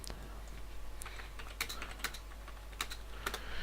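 Keys clatter on a computer keyboard in a short burst of irregular, close taps over a low steady hum.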